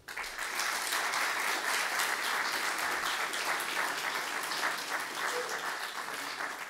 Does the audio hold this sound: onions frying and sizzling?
no